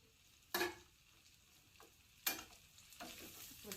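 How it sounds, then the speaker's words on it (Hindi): A cardamom and spice powder cough-remedy mixture being stirred, heard as two sharp scraping strokes with a couple of softer scrapes between them over a quiet background, no talking. "अच्छे से मिक्स कर ले रहे हैं।"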